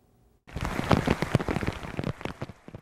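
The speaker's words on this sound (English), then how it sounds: "The heavy rain began to fall a little before midnight" Heavy rain bursts in abruptly after brief quiet and keeps pouring hard, a dense loud hiss with scattered splattering impacts during a strong late-night storm in Milwaukee.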